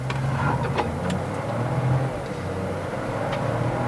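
A Proton S70 sedan accelerates from a standstill on a Malaysian test run, heard as a steady mid-pitched engine drone under road and cabin noise. It stays fairly even and moderate in loudness, with faint clicks and rattles.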